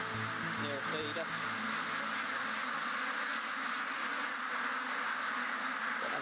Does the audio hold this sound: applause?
no